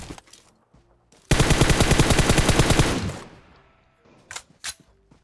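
Rapid automatic gunfire in PUBG Mobile, a dense burst of about two seconds of loud, evenly spaced shots that then trails off, followed by a couple of short, sharp distant reports.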